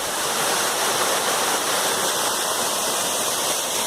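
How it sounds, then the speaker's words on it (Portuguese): The Cachoeira de Cocais waterfall roars steadily and loudly, a dense unbroken rush of falling water heard close up with no voices. "Cachoeira de Cocais."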